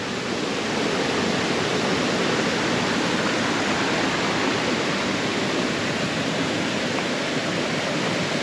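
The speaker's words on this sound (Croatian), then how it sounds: "kako gledate, neku mali potočić teče" A small stream flowing in the countryside near Šipovo, a dense, constant rushing wash of water, close and even from start to finish, with no voices over it.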